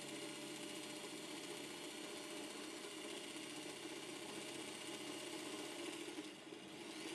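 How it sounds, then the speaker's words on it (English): A Featherweight sewing machine winds a bobbin with a steady, continuous mechanical whir that stays even and fairly loud throughout, with only a slight dip near the end. "I should pay attention so I don't overfill my bobbin"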